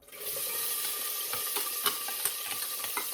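Chopped tomatoes frying and being stirred in a pan for a village-style mutton curry with onion and chilli, a close, bright sizzle with scraping stir strokes and small crackles throughout.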